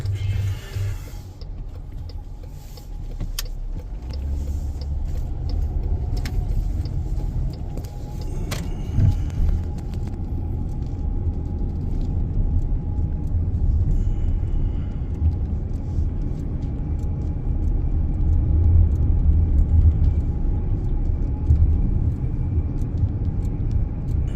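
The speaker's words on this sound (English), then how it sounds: "This is traffic on the way to school." Cars in morning road traffic on the way to a school in Florida, heard from inside a vehicle as a continuous low engine and road rumble with occasional small rattles and clicks, steady throughout.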